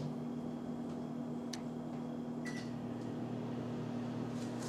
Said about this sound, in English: Into the microwave we go, on high for a minute and 30 seconds.